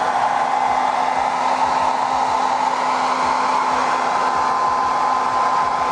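A heat gun blows steadily and loudly, heating a Samsung Galaxy Tab S2 tablet during screen replacement, a constant airy roar held for the whole stretch with no talk.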